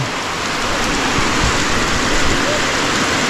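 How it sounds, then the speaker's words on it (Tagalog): The first rain of April falls as a heavy, steady downpour, a loud and unbroken hiss of water close by. "Napakasarap naman sa pakiramdam na nagkaroon kami ng ulan."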